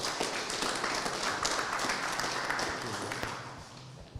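Audience applause at a professional society meeting, a dense, sustained wash of clapping from a room full of people that fades toward the end.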